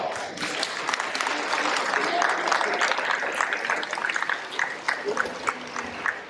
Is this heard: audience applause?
yes